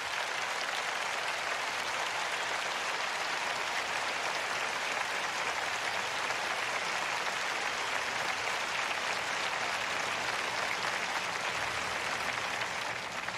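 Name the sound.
audience applause in church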